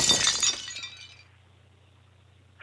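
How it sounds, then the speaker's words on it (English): Glass bottles smash in one loud, close crash, followed by brief tinkling shards that die away into a quiet hum. "Who keeps breaking glass in a weird way?"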